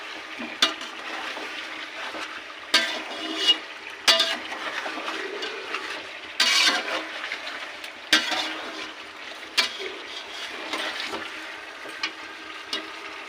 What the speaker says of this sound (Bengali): এবার দিয়ে দেওয়া হচ্ছে ভেজে রাখা চিকেন দিয়ে মিশিয়ে নিতে হবে